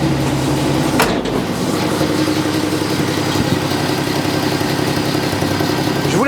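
The engine of a restored vehicle idling steadily after being restarted, a constant loud mechanical rumble with a brief sharp knock early on, close and alone without any talk.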